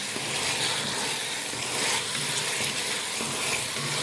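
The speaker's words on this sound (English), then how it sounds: "And now we'll stir it quite often." Chicken curry masala frying in a pot in a Lahori home-style kitchen, a continuous close sizzle and hiss with faint scraping as it is stirred, no talking.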